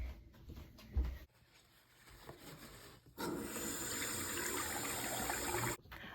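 A tap runs into a sink for hand washing, a steady splashing rush that starts partway through after a few small knocks and handling sounds, nearby, with no talking.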